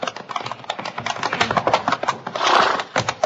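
Horse hooves clip-clop as a sound effect in a Western radio drama. The brisk, close, uneven clopping is quick and percussive and keeps going throughout, without any voices.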